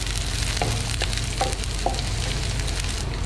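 Crushed garlic, ginger and onion fry in a pan for pizza sauce, a steady close sizzle with a few soft stirring clicks and no talk.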